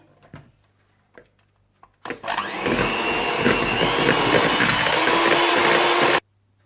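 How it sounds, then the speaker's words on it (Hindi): An electric hand mixer beats butter for lemon cupcake batter, starting abruptly after a few light knocks and running as a loud, steady whir for about four seconds before cutting off sharply. "आप मक्खन को बीट कर लें"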